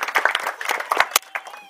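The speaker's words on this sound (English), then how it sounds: "So, round of applause." Wedding guests clapping for the bridesmaids at a reception, a scattered, fairly close burst of handclaps lasting under two seconds that thins out toward the end.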